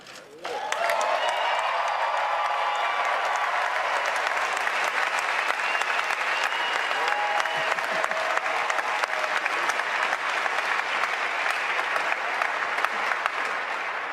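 A large audience at a televised Republican presidential debate erupts in sustained applause and cheering, a dense, continuous roar of clapping and shouts that holds steady for many seconds.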